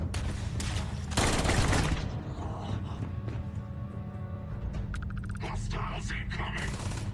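Rapid gunfire bursts in a video game, loudest near the start, then continuing as scattered shots and mechanical clatter under a steady low rumble.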